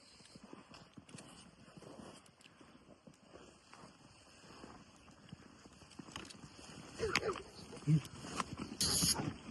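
A draft horse mare's hooves clip-clop in a steady walking rhythm as she is led on a rope, faint at first and growing louder toward the end, with voices and outdoor noise around them.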